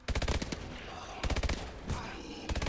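Automatic gunfire in the video game Advanced Warfare Exo Zombies: close, loud rapid bursts of shots in three clusters separated by short pauses, with faint background game noise between them.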